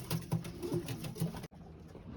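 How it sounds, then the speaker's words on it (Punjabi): Pigeons, including almond-coloured birds, cooing in a coop or net enclosure; soft repeated low coos in a steady rhythm, close by, then the sound cuts off abruptly near the end with only faint background remaining. "ਅੱਜ ਬਈ ਤੇ ਬਦਾਮ ਵਾਲੇ ਕਬੂਤਰ ਆਪਣੇ ਉਹ ਬੈਠੇ ਆ"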